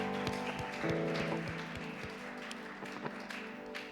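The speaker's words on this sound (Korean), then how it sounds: "우리 감사의 박수 올려드립시다" A church congregation claps during a worship service, a run of rhythmic hand claps mixed in under steady band music and singing.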